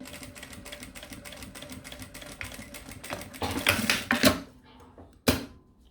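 A sewing machine stitches a mini backpack with rapid, even mechanical ticking, then works a short reverse backstitch that brings louder clattering bursts and a final sharp knock. It is close and runs without talk.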